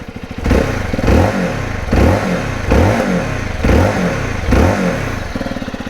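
A Zontes T2 310 single-cylinder 300 cc motorcycle engine revs hard in five or six rising blips, each climbing and falling back to a quick idle between pulls, loud and close with no talk.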